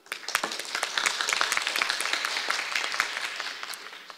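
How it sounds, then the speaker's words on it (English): Conference audience at an international judicial academic symposium applauding to welcome a session moderator, steady dense clapping from many hands throughout, fairly loud and full in a large hall. "Let us welcome the Honorable Justice Luo Changfa to be the moderator of this session with great applause"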